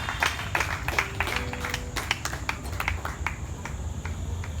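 An audience claps for a slam poet at a fireside slam show in Kisangani, a scattered, fairly faint run of sharp handclaps lasting throughout.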